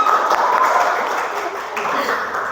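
A class applauds together, a steady moderate patter of clapping hands with a faint murmur of voices underneath, lasting a couple of seconds.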